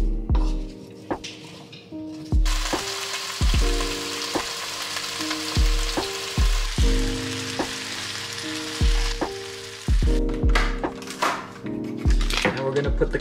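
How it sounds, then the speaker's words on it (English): Meat and vegetables stir-frying in oil over medium-high heat, a steady sizzle with repeated scraping and clacks of a utensil against the pan, fairly close, with a voice talking over it at times. "Stir fry meat and vegetable with oil in a large or medium heat for approximately"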